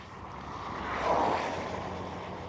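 A fixed-wing airliner landing at Amsterdam Schiphol airport, a broad, distant engine roar that swells to a peak midway and then eases off slowly, with no voices.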